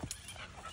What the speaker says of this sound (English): He's a standard poodle, yeah.